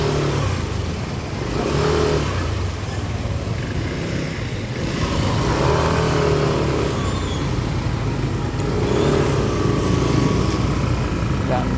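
Road traffic with cars and motorcycles passing near the Del Monte Cockpit Arena on a busy cockfighting day, a steady engine rumble with revving swells, mixed with crowd noise and people talking nearby.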